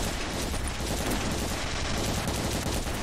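Sustained SMG fire in the Ravenfield game during a zombie invasion of a village fort, a dense unbroken rattle of rapid shots, loud and close for the full stretch.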